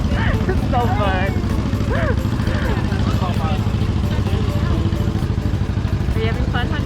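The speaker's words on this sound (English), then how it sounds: "Fun on the tractor? Yay! Tractor ride." Tractor engine running steadily throughout a farm ride, a constant loud rumble with voices talking over it.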